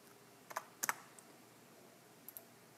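Typing on a computer keyboard, a few quiet, sharp key clicks in short bursts: a pair near the start, a louder double tap just after, then two faint taps near the end, over a near-silent room.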